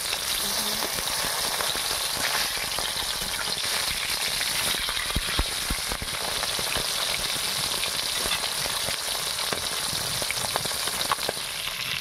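Steady crackling sizzle of fish frying in hot oil, continuous and close, with occasional sharper pops and no voices.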